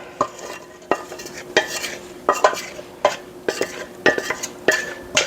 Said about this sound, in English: we're going to actually take all of the noodles and put these in